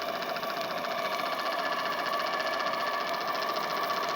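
A small marine steam engine with a reverse lever and displacement lubricator runs at pressure, making a continuous fast, even chuffing and mechanical whir at steady loudness throughout, with no talking.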